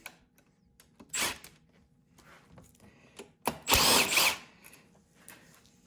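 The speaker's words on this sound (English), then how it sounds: "we're going to remove the valve cover. Just 4 bolts hold this on, little 8mm." Small 8mm bolts coming out of the valve cover on a Westinghouse iGen4500 generator, with scattered close tool clicks and two louder rasping bursts of a driver spinning them out.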